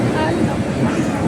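A train passing through a railway station on the route from Vizag to Arunachalam, a loud continuous rumbling roar with rattling, close by and steady throughout.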